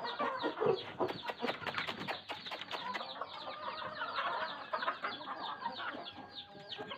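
Chickens and chicks in a yard cluck steadily while being fed grain, busy overlapping bird calls running throughout at close range with no voices.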